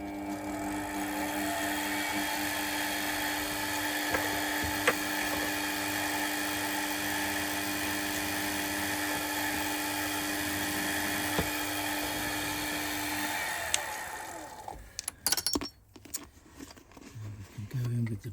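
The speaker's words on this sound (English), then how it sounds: "With the drill." Steady whine of an electric drill boring metal during machining of a PM Research #3 engine part, running continuously for a long stretch before stopping, followed by brief clatter and handling noises.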